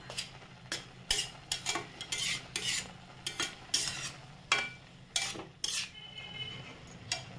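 Milk being stirred into ghee-roasted grated carrots in a pan for gajar halwa, a spoon scraping and clinking against the metal in repeated irregular strokes, close and fairly quiet with no talking.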